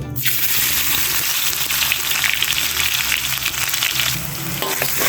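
Onions frying in a pot with fresh turmeric and ginger, a loud, dense, hissing sizzle that fills the whole stretch with stirring movement underneath, close up and with no voices.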